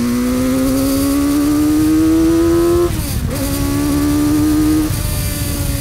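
A custom trike's Kawasaki Ninja 900R motorcycle engine revs hard and steadily climbs in pitch past 6,000–7,000 RPM, briefly drops as it shifts, then pulls again, loud and close.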